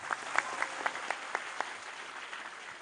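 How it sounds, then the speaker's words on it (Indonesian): Crowd applause at a large Islamic religious gathering in a Javanese village, with a regular beat of claps over a broad murmur of many hands, fading after about two seconds. "Tepuk tangan buat Desa Silotumpeng."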